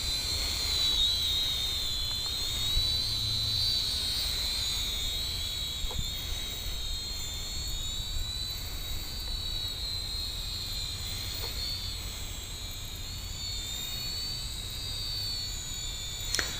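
An Attop A10 quadcopter drone hovers in altitude hold outdoors, giving a steady, high-pitched propeller whine that holds unbroken throughout without any talk.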